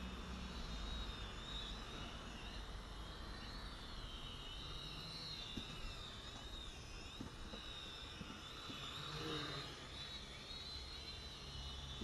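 Faint, distant whine of a small Eachine E32HW quadcopter flying outdoors, a thin steady buzz drifting slightly in pitch with soft background noise, no talking.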